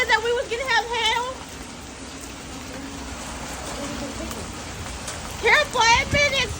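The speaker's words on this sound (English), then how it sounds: "It's hail!" Hail pelting down in a severe Texas thunderstorm, a steady dense rattle of impacts throughout, with excited voices talking loudly over it at the start and end.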